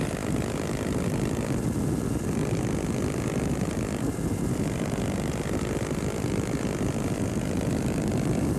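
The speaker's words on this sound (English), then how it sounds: "Miles and miles of high-speed motorcycling, with the rider having to correct that wayward machine every second." Husqvarna motorcycle racing at high speed in the Baja 1000, a continuous loud engine drone mixed with wind rush that holds steady throughout, with no voices.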